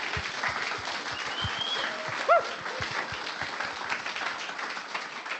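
A meetup audience at a ReactJS lightning-talks event in Dublin claps steadily throughout, a dense, sustained round of applause in a room, with a brief dog yelp partway through.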